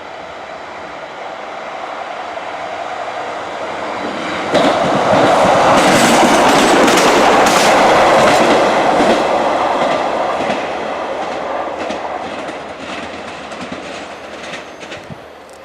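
A train runs through a manually gated level crossing at Brundall station on the Wherry lines, starting as a distant rumble, then swelling to a loud close roar with rhythmic wheel clatter before fading gradually.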